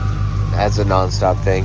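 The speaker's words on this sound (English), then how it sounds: "I hope you can hear that ambulance in the background." An ambulance siren wails in the background on a Houston street, a steady tone partly masked by someone talking close to the microphone.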